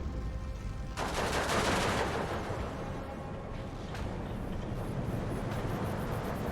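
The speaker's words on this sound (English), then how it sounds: "Pack 43 gun. Opening fire into the village." A Pak 43 anti-tank gun fires into a village in the Steel Division 2 war game, a loud, dense roar of gunfire and rumbling battle noise that swells sharply and then sustains throughout.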